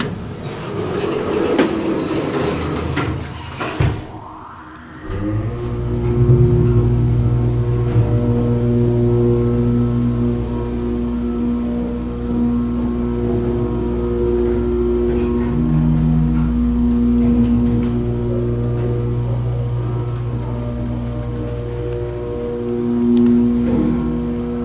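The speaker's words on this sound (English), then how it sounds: "But that motor is amazing." A dry-powered hydraulic motor starts after a brief rattle and runs loud and close with a steady droning hum and layered whining tones that waver slightly over about twenty seconds.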